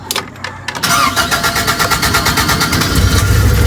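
A Toyota 5K engine with a carburetor cranks briefly and catches, then settles into a loud, close, rhythmic idle that grows slightly stronger toward the end.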